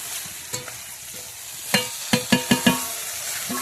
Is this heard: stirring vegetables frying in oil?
yes